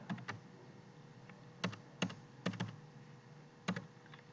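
Computer keyboard typing, quiet and close, with sparse single key presses and short clusters of clicks and no speech.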